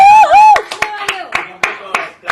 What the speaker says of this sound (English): I can't believe you all hired the CEO of DC to sit here and clap for us